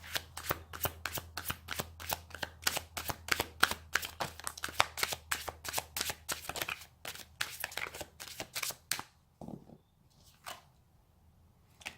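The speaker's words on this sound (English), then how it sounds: "Let's pull a strength card for us" Tarot cards being shuffled up close during a reading, a dense run of crisp riffling flicks for about nine seconds, then a pause and a few separate card snaps near the end. A low steady hum sits underneath.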